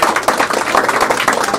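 An audience at a PRD event breaks into dense, continuous applause for a speaker, with many hands clapping at once in a busy, steady patter that lasts the whole clip.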